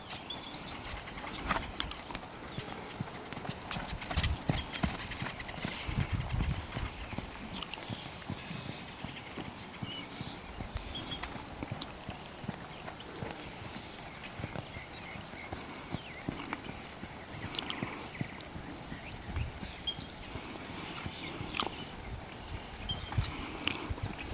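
Hooves of a young horse being ridden clip-clop in a steady, repeated rhythm throughout, fairly close, with no talking over them.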